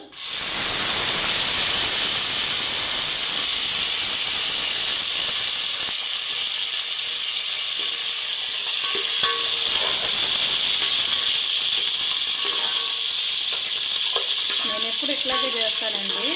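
Curry leaves hit hot oil and sizzle loudly, a sharp hissing burst that settles into a steady frying crackle, close up, with a few clinks of stirring near the end.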